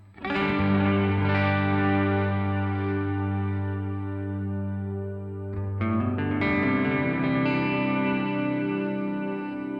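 Electric guitar played through a Headrush unit on an off-axis extended bass cab setting, loud sustained distorted chords with heavy low end and effects, a chord change near six seconds, no talking.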